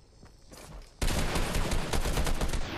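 Video-game gunfire in Fortnite Season 8 played on a REDMAGIC 6S Pro phone, a few faint shots and then a sudden loud, rapid automatic burst of shots that keeps going.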